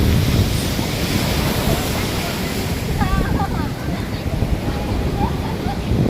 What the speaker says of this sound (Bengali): খালি ঢেউ আর খালি ঢেউ।